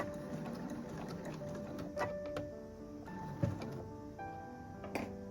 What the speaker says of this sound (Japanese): そしたら縫い代を包むようにして際を縫っていきます。